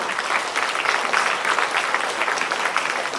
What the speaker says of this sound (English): Yes, you can clap for sir.